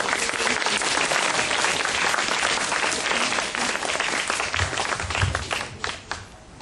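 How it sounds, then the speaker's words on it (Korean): A Korean church congregation in Frankfurt claps loudly to welcome the pastor at a Sunday service, a thick, sustained applause that thins and fades in the last second. "목사님 나오실 때 크게 우리 박수로 환영해 주셨으면 좋겠습니다."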